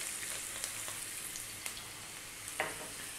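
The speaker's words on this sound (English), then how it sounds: "We're gonna drop in one onion, cut nice and small." Chopped onion and garlic frying in olive oil in a pan, a soft steady crackling sizzle at close range with a few light taps and scrapes of stirring.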